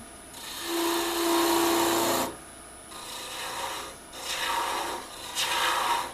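A long thin wooden finial spinning on a lathe is smoothed in short passes, giving rasping, rubbing bursts that start and stop, close and fairly loud, with no talking.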